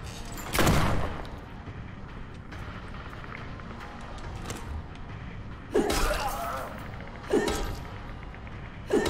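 Gunshots fire in the survival-horror video game Tormented Souls: four or five sharp, separate blasts spaced a second or more apart over low background noise, with no talking.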